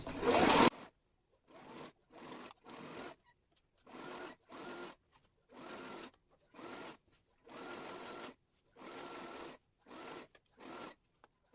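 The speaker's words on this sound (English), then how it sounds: "After that, I'm going to sew it. I'm going to follow here and sew down." A sewing machine stitches the side seam of a six-piece skirt with a waistband, running in about ten short bursts of steady mechanical whirring separated by brief pauses, close and clear, with no talk.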